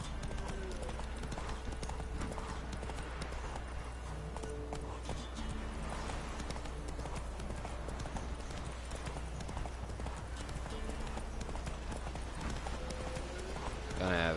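Horse hooves clip-clop steadily at a walking rhythm beneath game music in The Witcher 3, continuous and fairly close throughout, with occasional faint talk layered in.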